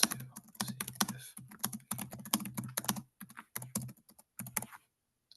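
Fingers type quickly on a computer keyboard in an office setting, a close, clattering run of keystrokes in short irregular bursts with brief pauses.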